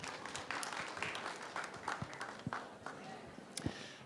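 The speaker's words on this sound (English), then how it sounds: "Let's give him a round of applause." An audience claps for a speaker, a moderate, somewhat sparse round of applause with distinct individual claps standing out, heard at a distance and fairly faint.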